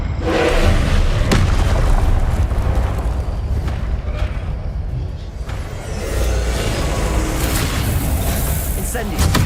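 A Confringo blasting spell bursts in Hogwarts Legacy, a booming, rumbling explosion that fills the scene loudly and keeps rolling for several seconds, with a brief dip midway before the roar swells again.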